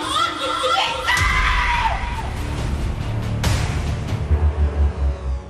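A woman lets out a long, loud, piercing scream in the middle of a busy street near tram lines, the cry trailing off into crowd noise and low rumbling traffic.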